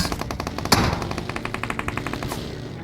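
Rapid submachine gun bursts from a Battlegrounds Mobile India solo match ring out as steady, evenly spaced automatic fire over nearly three seconds, with one sharper, louder shot standing out early and no talking.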